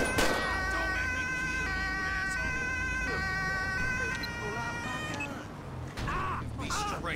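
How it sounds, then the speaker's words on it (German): A police siren in a video game wails steadily and loudly for several seconds over a low engine rumble, with brief clicks and thumps near the end. "Ich muss einmal diese Sirene ausmachen."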